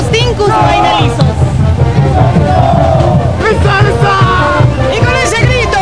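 Crowd at the UMSA university entrance parade in La Paz, with Tinku dancers, shouting a loud group cry over dense babble and music, continuous and close throughout.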